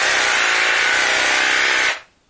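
A Bosch EasySaw 12 cordless jigsaw, used as a reciprocating saw, runs steadily at close range with a loud, buzzing motor whine, then cuts off abruptly, leaving near silence.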